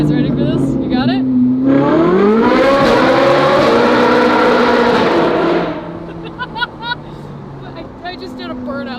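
A Ferrari fitted with an F1-style exhaust revs hard nearby, its engine note climbing into a loud, sustained roar before dropping back to a burbling idle with crackles, and voices can be heard faintly around it.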